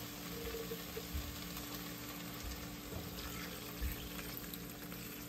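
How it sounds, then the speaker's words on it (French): Water pours steadily into a cooking pot while an African dish with peanut paste is made, a continuous low splashing stream heard close up with no talking. "Je vais ajouter un peu d'eau."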